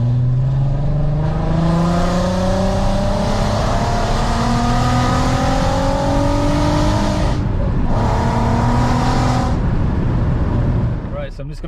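Loud, raspy exhaust from a straight-piped VW Golf R32 rising in pitch through a long pull, briefly lifting off before pulling again, then cutting out at the end; a voice speaks over the engine.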